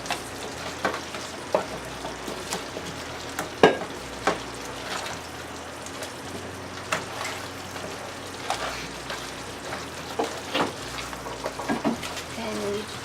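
Crab curry masala stirred in a sizzling pan, a continuous close frying hiss broken by regular scraping and tapping strokes of the spoon, no voices.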